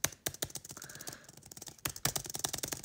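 A computer keyboard space bar is clicked over and over in a rapid, slightly uneven rhythm of sharp plastic taps. The taps are close to the microphone and fairly quiet, with a brief pause midway.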